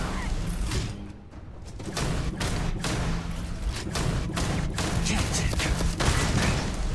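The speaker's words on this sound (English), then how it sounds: "I hear a turret." Automated turret fire in the video game Starfield keeps up a steady run of repeated thudding shots and booms, fairly loud, over a dense layer of game noise.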